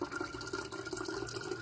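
Pineapple water poured from a bottle, a steady close trickle and splash of liquid running without pause, with no voices over it.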